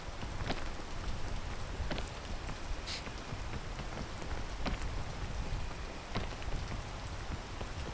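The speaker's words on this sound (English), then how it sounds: "and rain, because why wouldn't it be raining when I'm trying to climb a mountain?" Steady rain patters throughout the PEAK mountain climb, dense and even, with occasional sharper drops standing out. No voice rises above the downpour.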